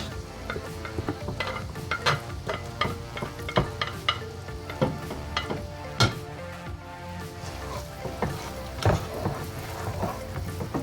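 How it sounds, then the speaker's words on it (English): Onions, scallions, pepper and garlic sautéing over low heat for an omelette, with a steady soft sizzle broken by repeated sharp scrapes and clinks of a utensil stirring against the pan. "So you're gonna just saute it on a low heat, guys, no rush."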